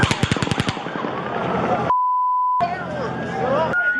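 Rapid bursts of automatic gunfire crackle at the start of the Las Vegas mass shooting, followed by a steady electronic beep tone and chaotic crowd noise with shouting voices.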